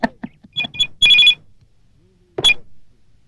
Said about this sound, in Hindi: संजय का फोन है।